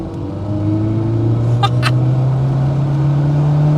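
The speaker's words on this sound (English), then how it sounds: "it revs out. And it makes all the right noises, that little induction noise." Classic Mini Sprite with a 1275 engine pulling hard in second gear from inside the cabin, a loud steady drone whose pitch climbs as revs rise, with induction noise audible.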